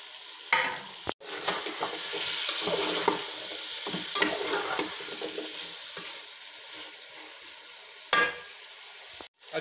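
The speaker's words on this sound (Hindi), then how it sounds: "अच्छी तरह से अरबी को भूनना है इसमें" Taro root (arbi) sizzles in a pot with browned chicken while being stirred firmly, giving a dense frying hiss with repeated scraping strokes and a couple of sharp knocks.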